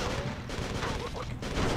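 Enemy gunfire in the Urban Chaos video game, a dense continuous rattle of shots and booms filling the whole moment, loud and close, with a voice talking faintly underneath.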